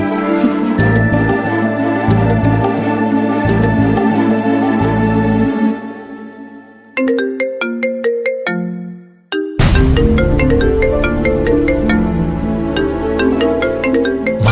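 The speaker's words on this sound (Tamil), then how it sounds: "மகிழ் என்ன இந்த நேரம் பார்த்து கால் பண்றா?" An incoming call's phone ringtone plays loud and close as a bright repeating electronic melody, with a short pause before the tune starts again, and no talking over it.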